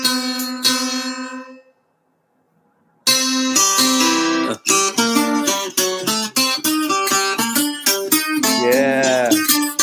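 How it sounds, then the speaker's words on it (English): Bright plucked Cuban tres guitar playing a syncopated, repeating montuno pattern with crisp attacks, briefly pausing near the start before resuming at full volume. "is a typical folkloric guitar of Cuba"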